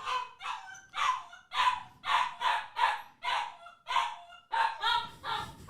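A Tibetan mastiff puppy cries in a long run of loud, close, high yelping whimpers, about a dozen rising wails in steady rhythm with no talk.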